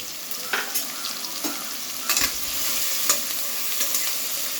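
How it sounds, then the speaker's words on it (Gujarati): Finely chopped medium onion sizzles in hot oil in a pan, a steady frying hiss punctuated by several scraping stirs, close and clear with no talk. "હવે આ બધું સરસ ક્રેકલ થઈ ગયું તો આપણે એમાં ઝીણી સમારેલી ડુંગળી નાખવાની છે।"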